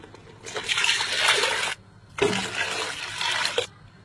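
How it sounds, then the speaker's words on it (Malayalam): Two cups of water are poured into a pot of soaked rice in two separate, steady pours of about a second and a half each, with a short gap between them. The pours are close by and clear. "രണ്ട് കപ്പ് വെള്ളം നമുക്ക് ഒഴിച്ചു കൊടുക്കാം"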